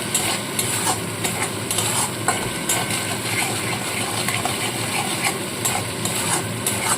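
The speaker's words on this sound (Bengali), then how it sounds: "ভালো করে মশলাটাকে কষিয়ে নেবো যতক্ষণ না তেল ছাড়ে ততক্ষণ কষাবো" Chili powder, turmeric, salt and sugar sauté in hot oil for a pabda fish curry, giving a steady hissing sizzle with scraping stirs and occasional clinks of the spoon against the pan.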